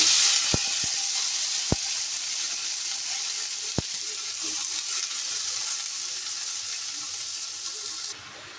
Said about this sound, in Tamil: தக்காளி போட்டு வதக்குவோம்.